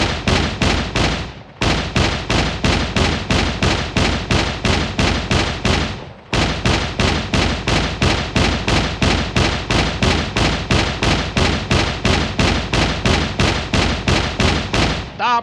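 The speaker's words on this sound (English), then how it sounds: "Stop shooting!" Rapid, sustained automatic gunfire from the video game SCUM, loud and close, a continuous rattle of shots with one brief pause near the start and another around six seconds, no talk over it.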